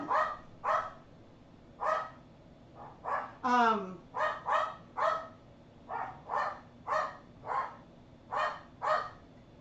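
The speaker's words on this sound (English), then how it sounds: "He doesn't bark like this when I'm filming, only when I'm streaming." A dog barks repeatedly indoors, about a dozen sharp, evenly spaced barks with one drawn-out whining yelp in the middle, moderately close and fairly loud.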